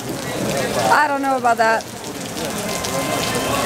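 Heavy rain pours down outdoors in Medellin, Colombia, a steady loud hiss of drops hitting surfaces throughout, with a voice briefly speaking over it.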